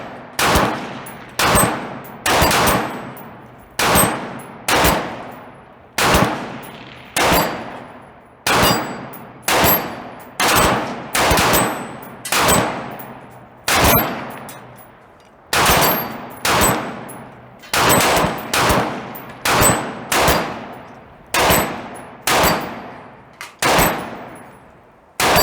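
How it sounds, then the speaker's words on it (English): Rapid strings of gunfire hit steel lollipop and hanging shooting targets on an outdoor range in the sun. Loud, close reports come in quick bursts, each followed by ringing decay, with short pauses between strings. "Half the time I was shooting at him."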